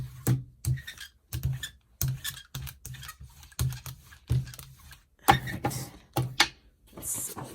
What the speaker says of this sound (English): I really am sorry about the noise of the glass mat.